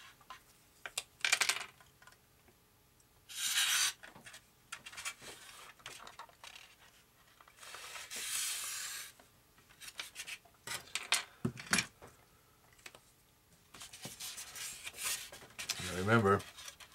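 A blade scrapes and rasps through foam or balsa in short separate strokes with quiet gaps between them, cutting out a traced part for a GWS Formosa RC plane, with a few scattered taps.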